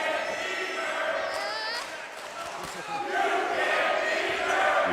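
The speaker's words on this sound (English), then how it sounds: "You hear this crowd." Wrestling crowd cheering at a live independent show, loud sustained roar with chants and shouts, dipping briefly midway then swelling again, with a commentator talking over it.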